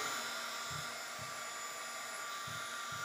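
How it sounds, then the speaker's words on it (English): A heat tool blows hot air steadily to dry an inked craft card, a continuous breathy whoosh with a high whine, even in level throughout, close up and alone. "heating things, I should say, with the heat tool, it's a good idea to do it evenly and on both sides"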